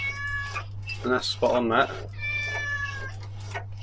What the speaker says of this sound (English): it's the blinking cat meowing